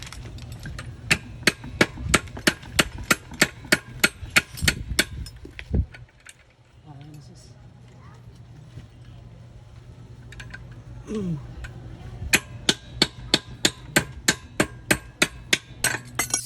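Sharp metallic hammer strikes on an allen wrench ring out in quick, steady bursts, pausing midway for a few quiet seconds with faint shuffling before the rapid tapping resumes.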